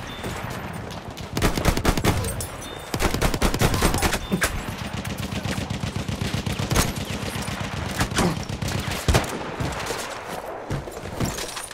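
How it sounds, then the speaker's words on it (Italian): Enemy machine gun fire in the Battlefield 1 video game, loud rapid bursts of automatic shots with single gunshots and battle noise mixed in, going on nearly the whole time. "Mitragliatrice nemica localizzata!"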